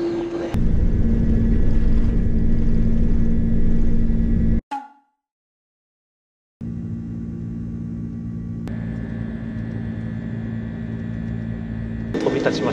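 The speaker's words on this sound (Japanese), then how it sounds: "飛び立ちました。" A China Airlines airliner bound for Haneda climbs away from Taipei Songshan Airport, heard from inside the business class cabin as a loud, steady engine roar that cuts out into silence partway through and then resumes.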